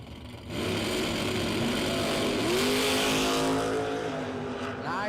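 Drag race cars launching side by side down the strip at an amateur drag racing event, a sudden loud roar of engines rising in pitch and holding steady as they accelerate away.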